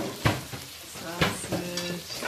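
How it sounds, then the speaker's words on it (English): A spoon stirs and scrapes through food frying in a pot in a Jamaican country kitchen, with sausage, fish and fried dumplings cooking, giving a few sharp scraping strokes over a steady sizzle, with a brief tonal sound near the end. "Something to stir the pot."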